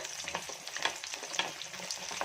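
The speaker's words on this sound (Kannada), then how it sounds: "ಎಣ್ಣೆ ಕೂಡ ಚೆನ್ನಾಗಿ ಬಿಸಿಯಾಗಿದೆ ನಾನು ಒಂದು ಈರುಳ್ಳಿನ ಸ್ಲೈಸ್ ಆಗಿ ಕಟ್ ಮಾಡಿ ಹಾಕೊಂಡಿದ್ದೀನಿ ನೋಡಿ ಚೆನ್ನಾಗಿ ಈರುಳ್ಳಿನ ಫ್ರೈ ಮಾಡ್ಕೊಳ್ಳೋಣ" Sliced onions fry in hot oil, a steady close sizzle with scattered crackles and stirring clatter running throughout, no voices.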